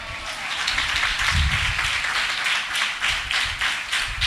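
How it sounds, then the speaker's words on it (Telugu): A church congregation claps loudly together in a fast, even rhythm of repeated hand claps, with a brief low thump partway through. "గట్టిగా చప్పట్లు కొట్టండి."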